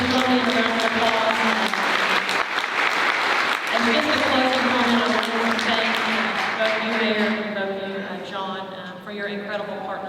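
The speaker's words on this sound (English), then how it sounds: "Please join me in a round of applause." Audience applause at a city's State of the City event, a steady, dense clapping from a large crowd that holds for most of the span and eases slightly near the end, with voices mixed in.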